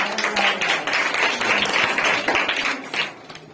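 Steady applause from a crowd, many hands clapping densely for a few seconds before tapering off slightly at the end.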